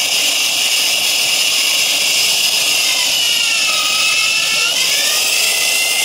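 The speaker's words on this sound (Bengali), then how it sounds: "এটা হচ্ছে হ্যান্ড কোর কাটার মেশিন।" A handheld core cutter machine bores through a wall, a loud, continuous high-pitched grinding whine that holds steady, with the pitch shifting slightly as the bit bites.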